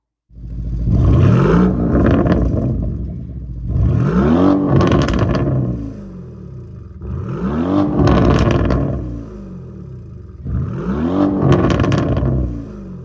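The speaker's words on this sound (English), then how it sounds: "We have a 4-liter twin turbocharged V8 engine mated to an 8-speed automatic transmission." A 2025 Lamborghini Urus SE's 4-liter twin-turbo V8 revs hard four times in a row, each burst climbing and falling back, loud and close with rumbling exhaust between.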